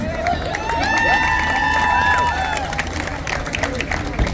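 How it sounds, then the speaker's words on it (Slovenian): Audience at a live show in Ljutomer clapping and cheering loudly, with whoops and shouts rising over dense applause before easing off toward the end. "Dajme si Ljutomer en velik aplavz."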